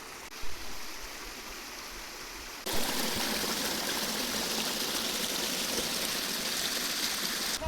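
Steady rushing water from a waterfall and river stream at Mineral del Chico, a softer trickle at first, then a louder continuous roar that fills the rest of the clip.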